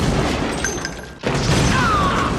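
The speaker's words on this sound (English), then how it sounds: "The shootout continues for a solid length of time." Gunfire and crashing impacts from a shootout in the Navy SEALs action film, dense and continuous with a sharp break midway, then a heavy burst resuming under a whistling streak.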